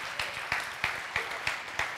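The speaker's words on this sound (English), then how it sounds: "You can clap for that." A congregation at a church sermon claps in a slow, steady rhythm, six even claps about a third of a second apart, moderately close over a quiet room.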